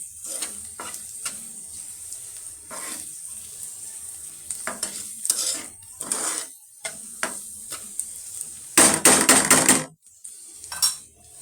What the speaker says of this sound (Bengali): হালকা আঁচে ভাজছি, যেন পেঁয়াজটা নরম ভাজা না হয়।